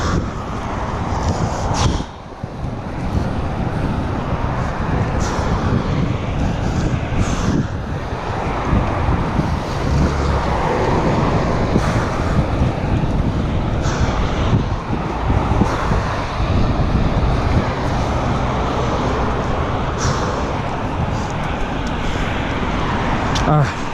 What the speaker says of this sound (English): fighting against the wind, and the wind is picking up.